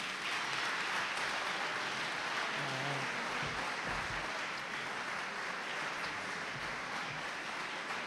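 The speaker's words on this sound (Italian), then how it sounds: "vorrei che ci fosse un applauso" Sustained audience applause fills the hall at an evening concert in Gallipoli, a dense, steady wash of many hands clapping throughout without a break.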